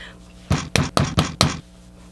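A door is hammered by fist from inside a hospital room, with five loud, heavy bangs in quick succession, close by, followed by quiet.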